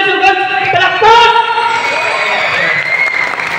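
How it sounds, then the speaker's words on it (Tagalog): Crowd at a rap battle at a hip-hop festival, cheering and shouting loudly with some clapping mixed in, voices rising over the noise throughout. "Palakpakan naman naman sugat! Palakpak!"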